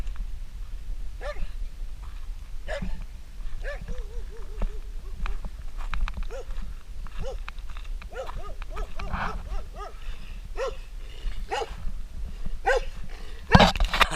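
Several stray dogs bark repeatedly on open land in Romania, some close and others farther off, a steady outdoor hum underneath and a loud burst near the end.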